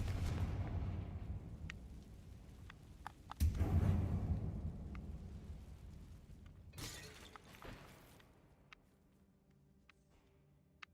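A Confringo blasting spell explodes in the Hogwarts Legacy video game: one sharp shattering blast that fades into a quieter rumble, followed by scattered small cracks and thumps, all fairly faint.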